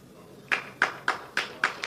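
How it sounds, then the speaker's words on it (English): An audience at a sermon claps in unison, six sharp, evenly spaced claps in a quick steady rhythm after a brief quiet start. "You're clapping"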